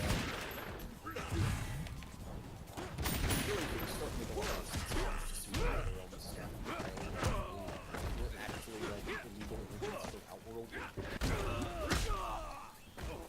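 Video game gunfire from a gun move in Mortal Kombat (2011), with rapid bursts of shots and impacts set among game fight effects while a player talks over them.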